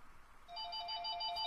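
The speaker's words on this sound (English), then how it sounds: "That's my phone." Phone ringing: a faint electronic ringtone starts partway in and repeats in quick, evenly spaced high beeps against a quiet background.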